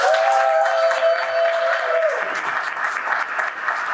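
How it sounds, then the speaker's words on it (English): Audience applause at a women entrepreneur summit in South Bend, Indiana, for PNC Bank and Northwest Bank, a steady, full wash of clapping from a sizable room, with a brief tonal hum at the start. "I'd like for everyone to give an applause for PNC Bank and Northwest Bank."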